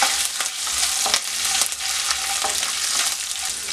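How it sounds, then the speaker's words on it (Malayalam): Ginger with dried and green chillies sautés in a pan for lemon rice, giving a steady close hiss of frying oil broken by light scraping stir sounds, with no voices. "ഇനി ഇതെല്ലാം ഒന്നുകൊണ്ട് വഴറ്റിയെടുക്കുക."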